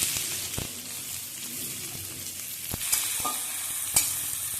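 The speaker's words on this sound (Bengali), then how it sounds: "এবার এটাকে একটুখানি ভাজা ভাজা করে নেব সুন্দর সেন্ট বেরোলে দিয়ে দেব কেটে রাখা পেঁয়াজ" Chopped onions fry in hot oil in a pan, a steady close sizzle broken by a few sharp clicks and knocks of stirring.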